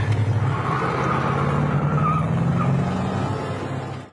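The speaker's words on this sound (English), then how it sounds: "Yeah, tires screeching to a halt." Car tires screech loudly on an abandoned road in the Twin Peaks pilot, a continuous skidding squeal over engine rumble that fades out at the end.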